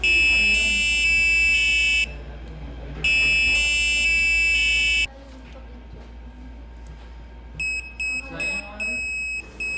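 A small electronic buzzer on a school robotics project beeps SOS in Morse code: shrill tonal bursts of differing length with gaps between them, then a quicker run of short beeps, with faint talk in the background.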